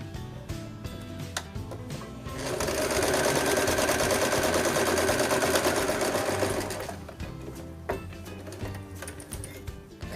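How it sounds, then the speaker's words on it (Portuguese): A sewing machine stitches a straight seam on patchwork fabric for a few seconds of fast, steady whirring, with quieter handling clicks and fabric rustle before and after. "passar aqui desse ladinho uma costura reta"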